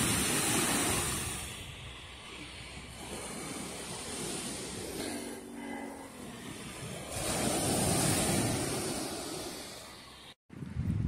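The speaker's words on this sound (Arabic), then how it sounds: "كيعجبني نسمع صوت البحر" Sea surf breaking on the shore, heard as a steady loud wash that swells and recedes, with wind rumbling across the microphone and no talk.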